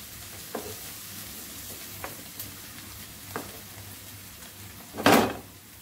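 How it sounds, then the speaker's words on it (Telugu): Onions frying in a hot pan until brownish give a steady low sizzle, broken by a few soft stirring scrapes and a louder burst of sizzle and clatter near the end, with no one speaking. "ఆనియన్స్ కొద్దిగా వేగనిద్దాము, బ్రౌనిష్ కలర్ వచ్చే వరకు"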